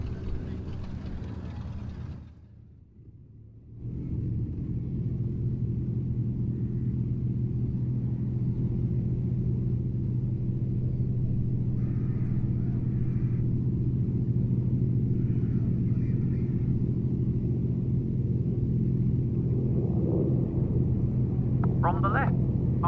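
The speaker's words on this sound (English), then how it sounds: "let's get back to me filming the aeroplanes and you hearing them" Aeroplanes flying at the Duxford air show, heard as a broad, steady engine drone and rumble that swells in after a brief dip and holds loud and sustained to the end.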